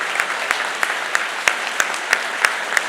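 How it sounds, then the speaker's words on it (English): An audience at a book launch evening applauds with a steady wash of clapping, while a few sharp, close claps stand out at an even, brisk pace throughout. "A big round of applause."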